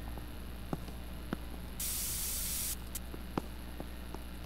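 Spray can spraying in Internet Cafe Simulator 2, a single steady hiss of about a second over quiet game ambience, with a few faint clicks around it.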